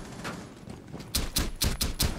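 Gunfire in the Rainbow Six Siege video game, heard as a rapid run of five or six sharp, loud shots in quick succession after a quieter stretch of muffled game noise.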